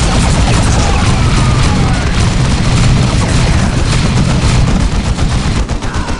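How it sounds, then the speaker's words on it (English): Dense, continuous gunfire and booming explosions from a Warhammer 40K Dawn of War Soulstorm battle between Space Marines and Eldar, loud and unbroken throughout, with bursts layered over a constant rumble. "Taking heavy fire."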